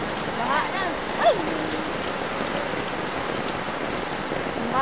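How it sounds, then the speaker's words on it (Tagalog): Steady rainfall patters continuously on surfaces as flooding sets in, a dense hiss of drops with a brief faint squeak partway through. "Ulan na guys, ulan na."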